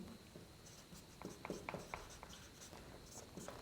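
Faint scratchy pen or chalk strokes of writing, a short series of quiet ticks and scrapes with soft pauses between them, heard close and alone.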